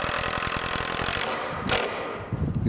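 A power drill drives a screw into wood until snug, a buzzing whir in rapid pulses that lasts just over a second, then stops, followed by brief handling noises.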